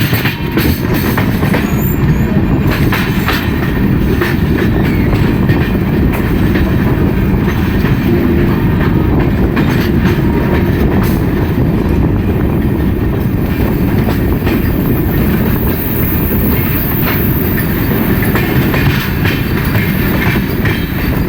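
A passenger train rolls into Khurda Road junction, with a loud, continuous rumble and clickety-clack of wheels over the rails heard from onboard, steady throughout without talking.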